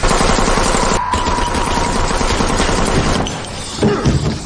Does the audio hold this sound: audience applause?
no